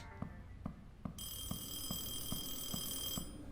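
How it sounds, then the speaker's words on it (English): A telephone bell begins ringing partway through, a bright sustained electronic trill over a steady rhythmic low thumping, continuing at moderate loudness until near the end; no talking. "Is the phone ringing?"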